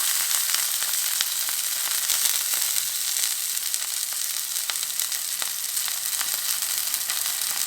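Sea bass fries skin-side in a hot pan, giving a steady, close crackling sizzle with scattered sharper pops throughout and no talking.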